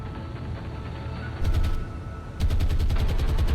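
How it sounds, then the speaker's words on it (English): Aircraft bombing run in the naval warfare game War on the Sea, with loud rumbling explosions and rapid bursts of anti-aircraft gunfire breaking in twice over a constant low roar. "Let's see what our bombing run will do or won't."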